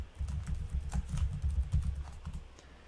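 Someone types on a computer keyboard, with a quick run of soft, close keystrokes clattering steadily for nearly three seconds.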